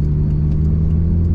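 A Mitsubishi Evolution IV engine idles with its turbo exhaust, giving a loud, steady, close-up rumble with a deep throb and no revving.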